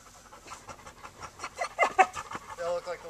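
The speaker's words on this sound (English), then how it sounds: "Oh, look. Puppies." Several puppies panting and scuffling in play, quick breathy bursts with small yips and squeaks rising in the middle and a short whine near the end, close by and fairly quiet.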